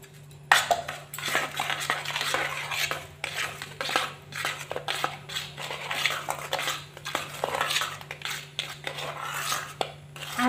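A naan puri mixture is stirred in a bowl, with repeated close scraping and clinking of a utensil against the bowl in an uneven rhythm, a steady low hum running underneath.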